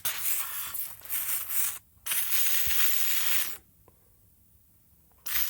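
Two long bursts of leak-test liquid sprayed from an aerosol hiss loudly up close on a Husqvarna 268XP chainsaw engine, separated by a short pause, followed by quiet and a brief final spray.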